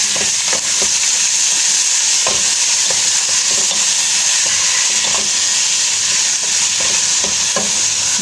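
Prawns frying in a pan with garlic, chili and ginger paste, giving a steady close sizzle and hiss with light stirring clicks and scrapes throughout.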